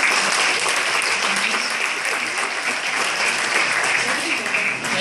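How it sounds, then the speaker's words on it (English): Loud, close applause fills the hall at a women's award evening, a dense unbroken wash of clapping from a seated audience lasting the whole few seconds. "Can we have a round of applause for her?"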